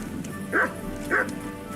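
A dog in a video game gives two short, high barks about half a second apart, heard over a steady low background hum.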